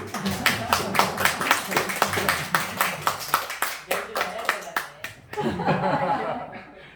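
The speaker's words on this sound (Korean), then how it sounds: "우리 전투 집사님 환영의 박수." A church congregation at Sunday worship claps in welcome for a returning deacon, a rhythmic run of sharp, fairly close claps that breaks off near the end into murmured laughter and chatter.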